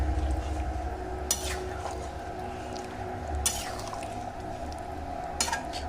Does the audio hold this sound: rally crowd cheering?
no